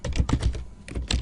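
A computer keyboard being typed on for a server command, several quick, close key clicks in an uneven burst with a short pause near the middle.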